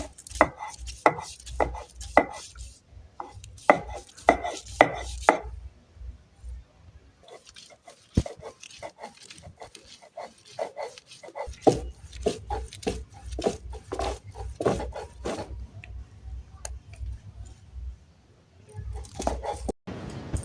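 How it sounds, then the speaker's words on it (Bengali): Flat bean seeds being ground by hand on a stone slab: a fast, rhythmic run of hard rubbing strokes in bursts, a short pause, then another long even stretch of steady strokes, close and clear. "এখন এটা আমি পাটায় বাটবো"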